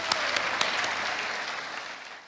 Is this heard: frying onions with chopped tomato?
no